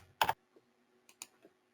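A few crisp keystrokes on a computer keyboard, one quick burst followed by two or three lighter taps, close and isolated in a quiet room with no talking.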